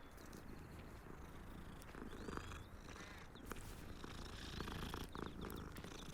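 A cat in the video game Hogwarts Legacy purrs in a steady, continuous low rumble that runs the whole stretch at moderate level, with faint game ambience and small chirps layered above.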